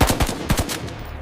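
Rapid bursts of gunfire crack out in quick succession, loud and close, several sharp shots packed into a brief volley.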